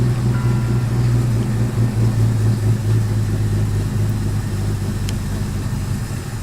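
A car engine running with no gas pedal and flooding, a loud, steady low rumble that wavers slightly as it idles unevenly, alone without talk.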